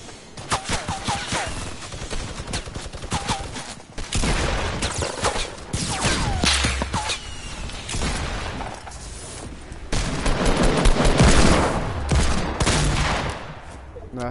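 Rapid sniper and automatic gunfire in a video game firefight, dense volleys of sharp shots crackling throughout with brief lulls, loud and close, while players talk over the action.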